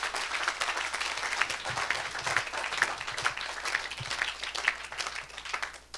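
Audience in a live evening event, applauding steadily with dense, continuous clapping and some cheering voices, loud and sustained throughout, with no clear speech over it.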